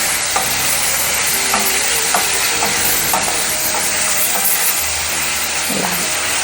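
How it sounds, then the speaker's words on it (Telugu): Paneer cubes frying in hot oil in a pan, a steady loud sizzle throughout with occasional clicks and stirring scrapes, no talking. "ఇలాగ అన్ని పన్నీర్ ముక్కలు ఇలా కొంచెం లైట్గా ఒక్కసారి ఆయిల్లో వేస్తే కొంచెం పచ్చివాసన పోతాయి పన్నీర్ ముక్కలు."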